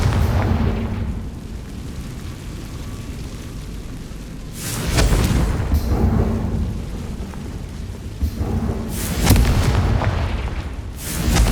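The Confringo fire spell from Hogwarts Legacy goes off in a loud booming blast with a rumbling tail, followed by more heavy thunderous bursts over a continuous low roar.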